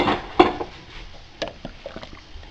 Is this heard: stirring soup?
yes